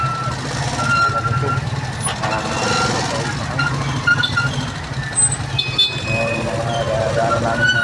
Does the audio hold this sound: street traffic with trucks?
yes